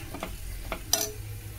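Brief crackling sizzle of spices hitting hot oil, with a few soft stirring scrapes before a sharper hiss.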